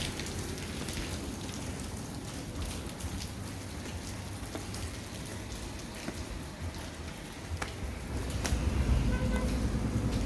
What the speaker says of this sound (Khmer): មើលកំពុងតែភ្លៀង